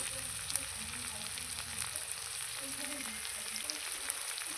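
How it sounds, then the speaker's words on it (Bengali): Garlic, cumin and green chilli fry in hot oil for a spicy mutton curry, giving a steady close sizzle with faint crackles and occasional stirring throughout. "দিয়ে আমি সব মশলাগুলো এবার কিন্তু আমি ভেজে নেব"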